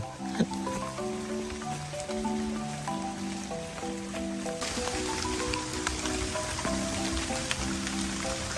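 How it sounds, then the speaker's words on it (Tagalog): Rain patters steadily with scattered drops, growing denser and louder partway through, alongside a faint tonal hum in the background. "Tunog ng patak ng ulan."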